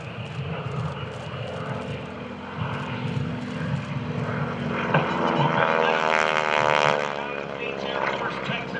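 An Air Force Texan propeller airplane drones overhead at an airshow, its engine growl building and sweeping in pitch as it passes, with a voice talking over the noise.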